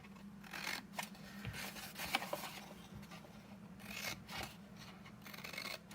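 Scissors snipping through cardstock flaps, a series of short crisp cuts and rasping slides repeating at an uneven pace, close and fairly quiet with no talking.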